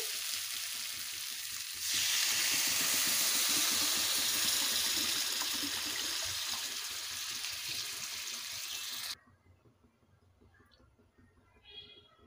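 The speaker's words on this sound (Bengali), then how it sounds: "এবারে দিয়ে দেব পরিমাণ মতো জল।" Water poured into a pan of vegetables fried with poppy-seed paste: a loud, rushing sizzle surges for about seven seconds, then cuts off and leaves a faint simmer.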